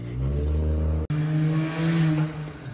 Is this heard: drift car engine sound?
yes